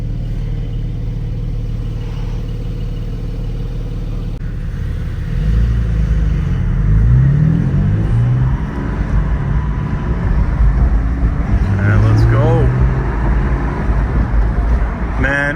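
A car engine hums steadily from inside the vehicle, rising in rumble as it accelerates, with faint road noise and passing traffic outside.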